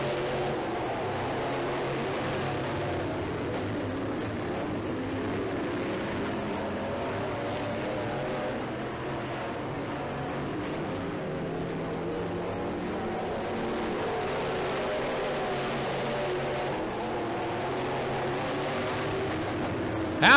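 Race cars circle a track near the finish of a race, a continuous distant engine drone rising and falling evenly for the whole stretch, with no clear single pass standing out.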